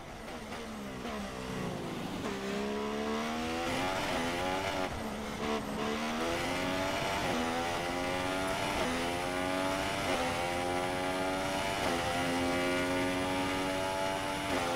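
Formula One car engine screaming around Albert Park in Australia in the F1 2017 video game, a loud continuous high-revving whine rising through gears with repeated upshifts, no voices.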